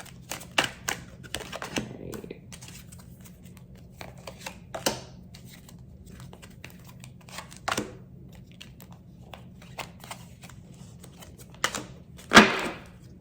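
Tarot oracle cards being shuffled by hand, producing a string of sharp papery clicks and flutters at uneven intervals, with a louder riffle near the end and quiet gaps in between.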